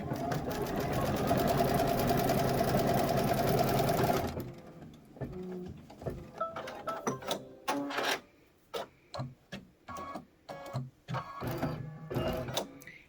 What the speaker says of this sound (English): we're going to go ahead and stitch one more time